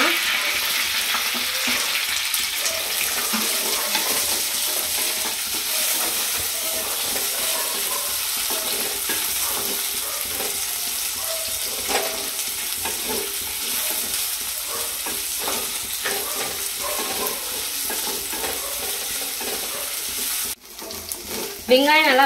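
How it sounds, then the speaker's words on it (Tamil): Onions sizzle and crackle in hot oil, with a spoon scraping and stirring the pan now and then; a constant close frying hiss. "வெங்காயம் நல்லா வதங்கிடுச்சு"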